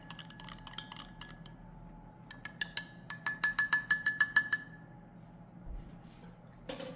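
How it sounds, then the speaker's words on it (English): A metal spoon stirs vinegar into milk in a glass or bowl, ringing in a fast run of bright clinks that speeds into a tight rhythmic burst before stopping, ending with a soft clatter. "our first step is to add our vinegar into our milk and give it a nice stir"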